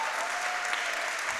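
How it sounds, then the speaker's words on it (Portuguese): Steady applause from an audience at a panel session of an early-childhood week event, a dense even wash of clapping held at constant level throughout the short span. "Uma salva de palmas para vocês."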